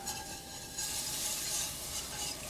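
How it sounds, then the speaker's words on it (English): Cold milk being whisked into a hot roux in a Le Creuset pot, a continuous close, bright scraping and swishing with a faint sizzle underneath, steady and busy throughout. "When your roux is cooked, turn up the heat a little because we're adding cold milk. I'm going to whisk while I do it."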